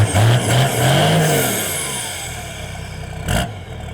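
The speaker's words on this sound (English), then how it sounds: "let's turn this car on. Let's flick the key and have a listen." A Toyota BJ42 Landcruiser fitted with a factory turbo six-cylinder engine starts with a few cranking bursts, then revs and settles into a close, rough idle, with a sharp clatter near the end.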